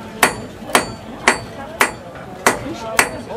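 Six evenly spaced, ringing hammer blows on metal over an anvil at a blacksmith demonstration during a country heritage festival, each sharp strike fading quickly before the next, close and clear.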